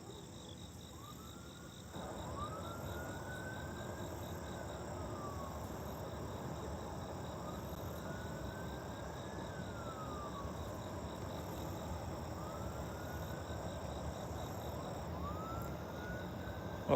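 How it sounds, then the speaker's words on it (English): Distant police and ambulance sirens wailing in slow rising and falling sweeps, faint and continuous over a steady background hum, near a river in Chicago. "there go the police and ambulance sounds"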